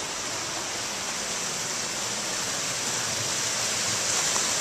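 A waterfall among icy spruce woods produces a steady, even rush of falling water, continuous and moderately distant with no voices over it.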